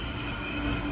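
Rumbling train carriage in the Minecraft Transit Railway game, a steady rolling drone with a faint wheel squeal running continuously and fairly loud throughout.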